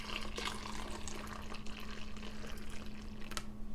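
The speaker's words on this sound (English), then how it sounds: "let's use the bottling funnel. It's still probably going to make a mess because this does not have pour" Masala-style yogi tea is poured through a bottling funnel into a cup, a soft steady trickle and splash of liquid over a low background hum.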